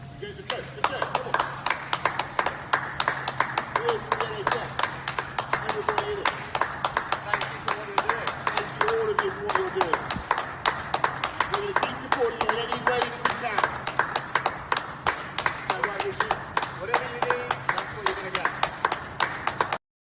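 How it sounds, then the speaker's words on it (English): Dense, steady clapping from many people applauding NHS carers in Britain, sustained throughout beneath a speaking voice. "from clapping for our carers"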